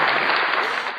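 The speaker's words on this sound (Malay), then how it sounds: "Saya tepuk tangan untuk semua." Hand clapping, a dense burst of applause from a group that lasts about a second and tapers off at the end.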